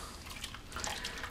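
Water poured into a hot pan for deglazing after browning ham produces a brief, faint hissing sizzle with soft bubbling.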